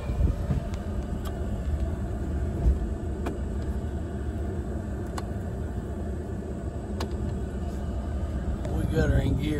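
Steady low diesel rumble of a John Deere 5045E tractor engine idling and pulling into gear on a steep field, running close and constant under occasional faint clicks and someone talking.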